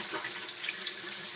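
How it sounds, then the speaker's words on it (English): Water runs steadily from a kitchen tap as sprouting chickpeas are rinsed under it, a continuous close splashing hiss with small bubbling variations, no talking. "I'm going to give them another rinse."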